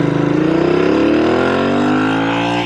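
A Royal Enfield INT865 motorcycle engine pulls steadily while riding, a loud close throbbing drone rising smoothly in pitch as the bike accelerates.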